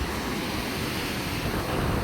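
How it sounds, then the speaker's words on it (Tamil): Sea waves beat steadily on the shore at a Jaffna fishing spot, heard as a continuous loud wash of surf with wind, and no speech. "கடல் எப்படி அடிக்குதுன்னு"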